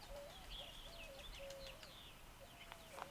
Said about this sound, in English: There's a bird.